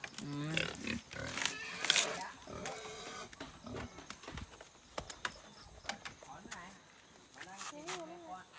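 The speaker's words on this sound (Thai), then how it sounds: "หมูนี่กินเยอะนะ กินวันละสองสามมือใช่ไหม ดูมารอเลยนะ" Pigs at feeding time, grunting and squealing close by with chewing and clatter from a trough, while people talk throughout.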